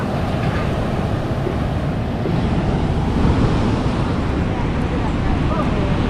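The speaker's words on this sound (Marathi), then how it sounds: "समुद्राचं पाणी पण काजल घाबरली" Monsoon sea waves roar and wash continuously onto the shore at Ganpatipule, Ratnagiri, a loud, dense rumble mixed with wind buffeting the microphone.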